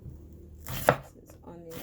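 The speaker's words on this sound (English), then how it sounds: "Cutting up the seasoning gently." A knife slices through seasoning herbs on a board, a couple of soft chops with one sharp knock at the centre, close and quiet with no voices.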